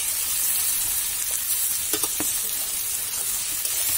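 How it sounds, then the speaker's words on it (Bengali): Onion and potato frying in oil with salt added, a dense continuous sizzle from the pan with a few sharp scrapes and knocks of a stirring utensil near the end. "লবণটা দিলে তাড়াতাড়ি আলু আর পেঁয়াজটা লাল হয়ে যাবে,"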